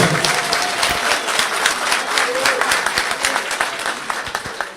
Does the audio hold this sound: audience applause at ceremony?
yes